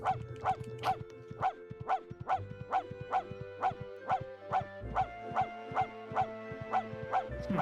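Repeated barking from a dog in a video game, a steady run of evenly spaced barks, about two per second, over a low droning game soundtrack, with no talking.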